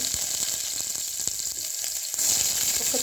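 Onion dropped into hot oil and frying: a bright, close, steady sizzle with a few light clinks and stirring taps, rising to a louder hiss near the end, with no talking.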